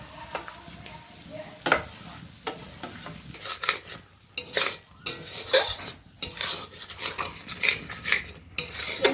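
Ground paste of fried ginger, garlic, onion, tomato and chilli goes into frying onions in a pan for Bengali chicken kosha, with soft sizzling under repeated clinks and scrapes of a utensil stirring against the pan.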